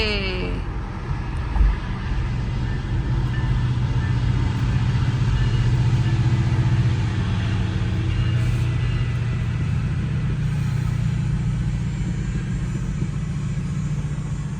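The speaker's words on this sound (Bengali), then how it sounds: "ট্রেন যাচ্ছে।" A train passes by near a roadway, producing a steady, fairly loud low rumble that holds evenly for the whole stretch with no voices over it.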